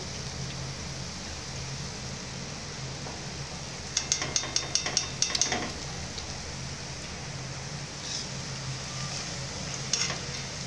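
Onions fry for a jackfruit biryani with a soft, even sizzle. A quick run of sharp metallic clicks and taps sounds midway, and a couple of lighter taps come later. No one speaks.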